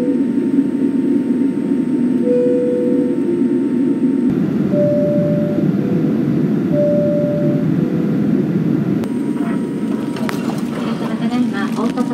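Low, steady rumble of a JAL Boeing 787-8 cabin as the plane rolls along after touchdown at Osaka Itami Airport, with a calm Japanese announcement voice heard over the drone.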